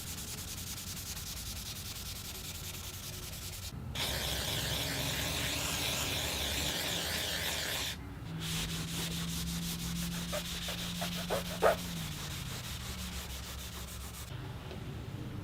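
Rust is scrubbed off a cast iron jointer bed with steady, abrasive rubbing and sanding strokes. The quiet, continuous hiss shifts in texture across a few passes, with a small clunk near the end.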